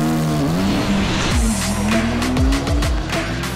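A Formula 4 race car approaches the first corner at very high speed, its loud, close engine whining and dropping through quick downshifts under braking, with brief tyre squeal; no voices.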